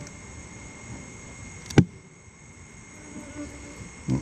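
A faint, steady buzz of Saskatraz honeybees at their hive hums in the background, with a sharp knock partway through and another bump at the end.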